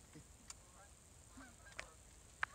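Geese honking during a hunt, a few scattered sharp honks at moderate distance over a quiet outdoor background, no voices.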